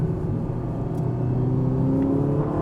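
A Ferrari Roma's 3.9-liter V8 drones steadily from inside the cabin, a smooth continuous rumble with a slight rising tone and no talking.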